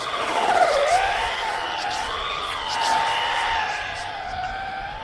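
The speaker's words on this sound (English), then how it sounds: "Just wants to peel out all the time" A rear-wheel-drive 1/16 scale MN Model RC drift taxi spins out, its small tires squealing in long wavering whines that rise and fall over a steady whirring motor.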